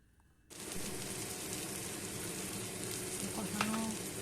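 Prawn masala with Kashmiri chili powder sautés in a pan, a sizzle that starts abruptly and continues steady and close, with occasional stirring clinks.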